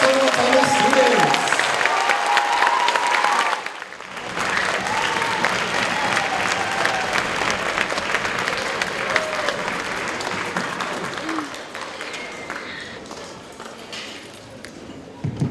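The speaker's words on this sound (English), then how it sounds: "One more round of applause for all our solo fellow students." Sustained applause from a school band concert audience honoring student soloists, a dense crowd clapping for several seconds, briefly dropping out, then resuming steadily before trailing off, with a few voices mixed in.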